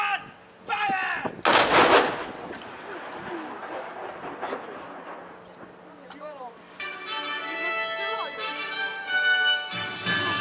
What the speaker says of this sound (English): Evening gun! Fire!